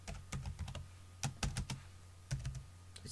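Code is typed on a computer keyboard in close, crisp clusters of keystrokes, irregular bursts separated by brief pauses.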